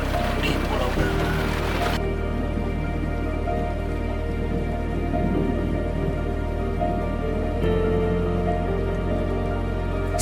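Steady rain pours down while travellers wait out the weather before crossing by sea to Gara Island, a continuous even hiss filling the clip with faint voices underneath.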